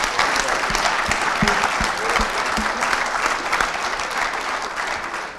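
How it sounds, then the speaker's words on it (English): An audience at a college sport management speaker series event claps for two students in a dense, sustained round of applause that stays loud and even throughout. "I would like a round of applause for our two students brave enough to be up here"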